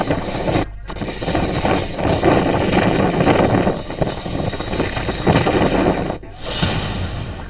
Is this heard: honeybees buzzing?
no